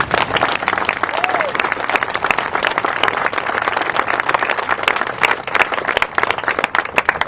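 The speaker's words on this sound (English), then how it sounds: "I would like to give a real round of applause to the Village of Canastota DPW." An outdoor crowd applauds at a mural dedication in Canastota, with loud, dense clapping that holds steady for the full stretch and has faint voices mixed in.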